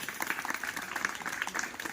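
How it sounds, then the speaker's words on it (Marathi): Students at a school math games event applaud together in a steady, dense patter of many hands clapping, sustained and fairly even throughout with no voices standing out. "प्रथमतः आपण जोरदार टाळ्या त्यांच्यासाठी वाजवूया."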